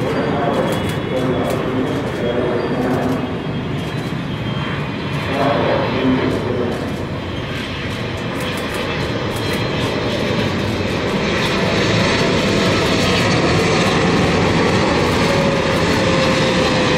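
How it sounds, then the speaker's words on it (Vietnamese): Qatar Airways Boeing 777-300ER, registration A7-BEK in Paris Saint-Germain livery, landing on runway 25 at Tan Son Nhat, a loud steady jet engine roar with high whine throughout, under a voice talking. "Và chiếc máy bay đang bước vào hạ cánh ở đường băng 25 phái."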